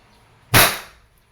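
A single sharp crack from an Umarex Glock 17 Gen 3 airgun during chrono testing, loud and close with a fast decay into silence.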